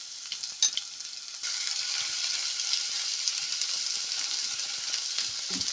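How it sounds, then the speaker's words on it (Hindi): Crushed garlic and ginger fry in hot oil with a steady, fairly quiet sizzle that grows fuller after the first moment, along with a few faint stirring clinks. "लहसुन अदरक मैं इसमें ये कूट कर ये डाल रही हूँ, लहसुन भी और अदरक भी है।"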